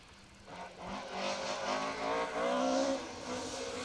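A Mini rally car in the 1400 class passes on a Kielder Forest gravel stage, its engine rising from distant to nearer with a revving note and falling away; moderately faint, with no talk.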